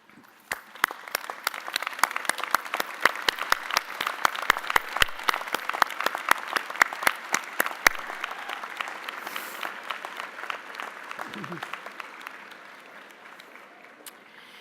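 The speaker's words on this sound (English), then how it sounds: "I ask the graduates now to stand, turn to the audience, and offer them a round of applause" Graduates at a public health commencement ceremony applaud the audience, a dense, sustained round of clapping from a large crowd that holds steady before gradually thinning and fading out.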